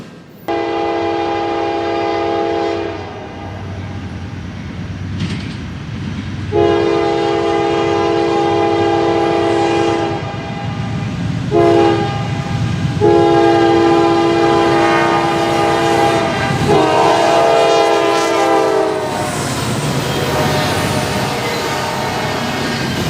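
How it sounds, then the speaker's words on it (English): Amtrak passenger train number 93 crossing over from one main track to another at Suffolk, Virginia, with long loud horn blasts over a steady rumble of rolling wheels and rail clatter, heard close and alone. "this is the second train, number 93, crossing over at Suffolk from Main Track 1 to Main Track 2"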